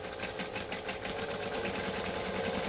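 A sewing machine backstitches across a bag gusset while sewing a Divina bag from a Bagstock pattern, running with a steady, continuous whirring drone at close range throughout.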